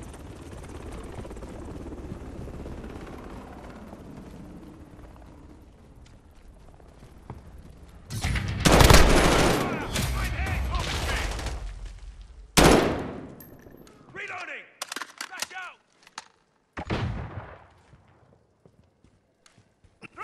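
Chopper gunner helicopter in a Modern Warfare video game, rotor thrum building, then heavy bursts of gunfire and sharp impacts in loud clusters that break off into scattered shots.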